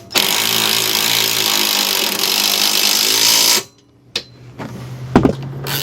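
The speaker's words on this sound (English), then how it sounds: "I'm going to go ahead and install this self-tapping screw." Power tool driving a self-tapping screw during installation of nerf bars on a 2020 Polaris RZR Turbo: a loud, steady whir for about three and a half seconds that stops abruptly, followed by a few short clicks and knocks.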